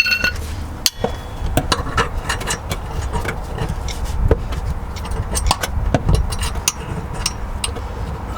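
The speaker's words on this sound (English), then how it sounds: "Got my hook tool and a screwdriver. I'll try the hook first of all." A hook tool works a rubber exhaust hanger onto a MK2 Golf GTI, with repeated close metallic taps, clicks and scrapes over a steady background rumble.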